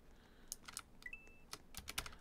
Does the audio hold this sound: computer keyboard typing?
yes